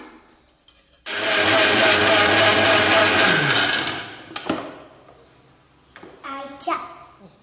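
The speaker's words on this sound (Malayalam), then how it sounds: "എന്നമ്മ മിക്സിയിൽ വെച്ച് നല്ലോണം അരക്കണം" A kitchen mixer grinder grinds washed ingredients for homemade hair oil, a loud close whirring that runs for about three seconds and then stops, followed by clatter and a voice talking.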